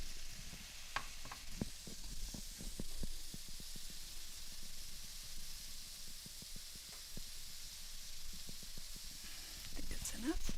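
Chopped garlic sizzles faintly in a pan of vegetables including carrots for a potato and turkey sausage soup, a low steady hiss with scattered stirring clicks and scrapes, partly under a speaking voice.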